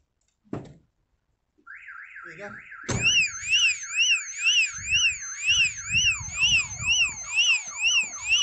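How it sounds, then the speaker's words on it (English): After a few knocks, a Prestige X2 car alarm on a Mercedes Sprinter van blares up close, cycling through loud warbling and whooping siren tones in a repeating pattern. "There you go, alarm's going off."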